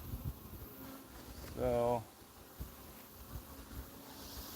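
Honey bees drone steadily at a backyard hive, and one bee buzzes loudly right up close for a moment before the hum settles back; someone briefly speaks.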